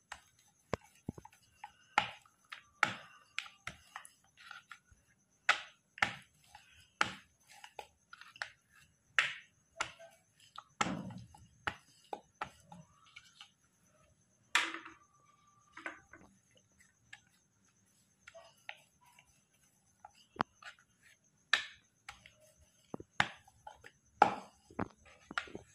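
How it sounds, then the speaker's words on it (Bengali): Oiled luchi dough is rolled out with a rolling pin, giving sparse, quiet knocks and clacks of wood on the board in an irregular rhythm against near silence. "বন্ধুরা এরকম করে সমস্ত লুচিগুলো আমি বেলে নিয়েছি।"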